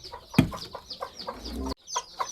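Chickens and chicks cluck close by beside a net enclosure on a small farm, with repeated short clucks and a loud squawk near the start, briefly interrupted before the clucking resumes.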